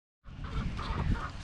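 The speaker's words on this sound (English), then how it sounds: "So all the grown chickens are out here" Grown backyard chickens cluck and murmur close by after a moment of silence, a soft, brief burst of low fowl chatter with no talking.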